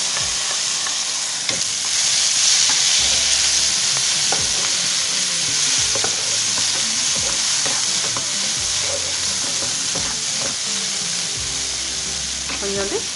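Boiled horse gram with curry leaves is stir-fried in a pan, giving a steady close sizzle broken by repeated scraping stirs of the spoon.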